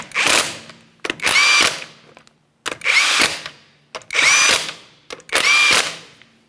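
Impact wrench spinning lug nuts onto a Honda Civic wheel, with four or five loud, close bursts of whirring and rattling, each lasting about a second and separated by short pauses.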